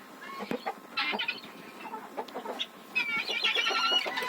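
Chickens in a farmyard poultry shed cluck and murmur at close range, giving several short overlapping calls and soft squawks, with no voices over them.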